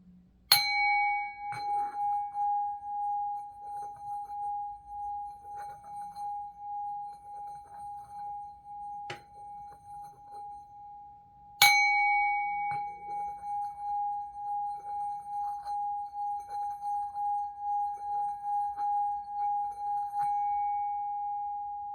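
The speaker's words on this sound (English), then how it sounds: "I'm going to just do 3 clangs and on this bell, which will clear the energy." A metal bowl is struck three times, each clear ringing tone sustaining and slowly decaying, the strikes spaced several seconds apart in a quiet room with faint soft talk.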